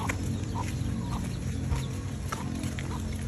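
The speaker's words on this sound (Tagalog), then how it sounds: "Baby chicken." Chickens cluck softly in a steady farmyard bustle on a property in the Philippines, several birds close by over a constant low rumble of background noise.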